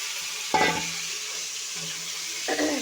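Vegetable stalks sizzle as they fry in oil in a pan seasoned with a dried red chili and black cumin, with steady crackling broken by two louder bursts as the pieces are stirred.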